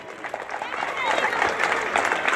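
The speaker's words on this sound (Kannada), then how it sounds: "ಜೋರಾಗಿ ಚಪ್ಪಾಳೆ ಹೊಡೆಯಿರಿ" An audience claps loudly at a school event when asked to show pride in the school. The applause is a dense, steady wash that builds and holds for the whole stretch, with voices mixed in.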